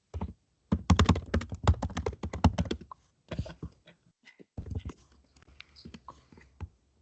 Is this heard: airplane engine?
no